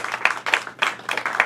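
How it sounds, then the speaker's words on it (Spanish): A church congregation applauds in short rhythmic bursts, the claps coming in uneven waves, moderately near and fairly quiet. "den un fuerte aplauso a todas estas personas que pudieron acompañarnos"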